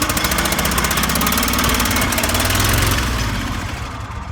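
A twin-cylinder lawn mower engine runs loud and close with an uneven, stuttering chug, its rhythmic pulsing roar fading slightly toward the end.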